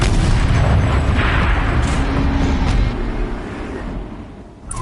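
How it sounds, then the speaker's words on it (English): A tank's turret cannon fires in a PS4 game, a loud heavy boom that rumbles and fades over several seconds, with no talk. "Rotate turret! And fire!"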